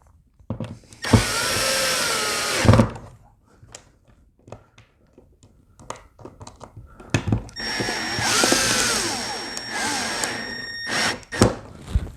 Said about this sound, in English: and then we're going to go ahead and put the screws in.